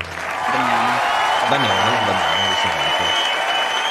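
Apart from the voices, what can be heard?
studio audience applause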